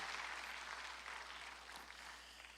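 A church congregation claps together during a Sunday worship service, a soft, distant patter of many hands that continues evenly and fades slightly toward the end.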